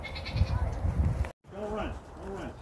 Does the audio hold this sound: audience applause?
no